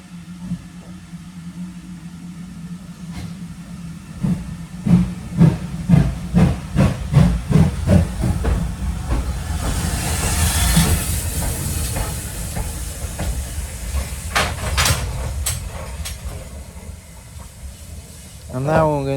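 GWR large prairie 5199 steam locomotive on the Battlefield Line Railway hisses loudly nearby, with a run of rhythmic steam chuffs and a long steady blast of escaping steam, plus a brief whistle-like tone toward the end.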